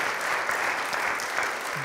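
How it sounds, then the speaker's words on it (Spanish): A church congregation claps in a dense, steady round of applause, sustained and fairly loud for the whole stretch. "I believe that Jesus deserves a round of applause."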